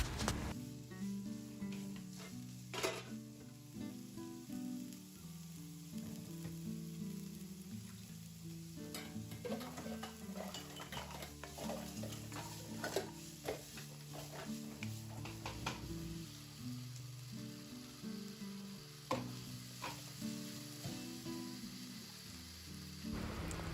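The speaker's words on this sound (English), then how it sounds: "Continue mixing everything." Seasoned fried brown rice being stirred in a hot pan, a steady soft sizzle with scraping and tossing sounds from the utensil, close up and without talk.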